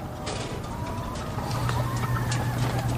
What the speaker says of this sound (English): chirping for their moms.